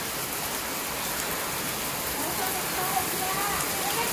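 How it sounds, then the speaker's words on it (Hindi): Heavy rain pours steadily at a mountain pilgrimage site, a dense, even hiss of downpour with no break or change in loudness. "झमाझम बारिश हो रही है।"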